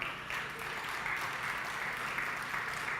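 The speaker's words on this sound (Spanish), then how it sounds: "¿Pueden dar un aplauso al Señor?" Church congregation applauding the Lord, a faint, fairly distant and even spread of clapping that holds steady throughout.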